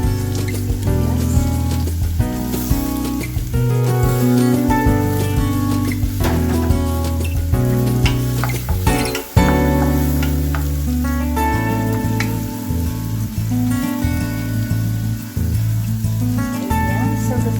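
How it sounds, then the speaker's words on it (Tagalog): Garlic and onion sauté in a hot pan while a chicken dish with pineapple is cooked, giving a steady loud sizzle with occasional stirring clinks. Background music plays underneath the whole time. "Ito po natin igigisa ang ating bawang at sibuyas"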